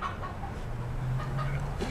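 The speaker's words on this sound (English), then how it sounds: "Freaking chicken." A chicken clucks softly in a few short, close calls over a low steady background hum, with no one speaking.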